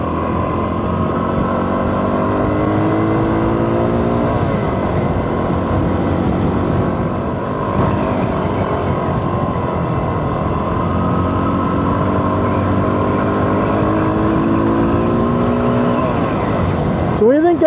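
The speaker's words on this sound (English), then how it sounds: "Test out our audio, revving down the road just as quick as we can and see how it sounds." A motorcycle engine drones loudly and steadily on a gravel road past open fields, with rising and falling rev sweeps throughout, close to the microphone with wind.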